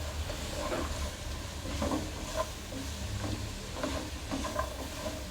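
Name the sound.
stir-frying cabbage and vegetables in a pan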